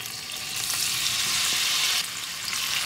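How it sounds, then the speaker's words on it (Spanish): Tofu frying in hot sesame-seasoned oil, a loud, dense, continuous close sizzle with a bright crackling hiss that swells slightly midway and holds steady, with no voices. "Cuando el aceite esté caliente, empezamos a echar el tofu"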